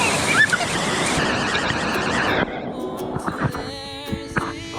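Water gushing out of a small natural spring, a steady rushing wash that drops to a softer trickle halfway through, with faint voices and clatter nearby.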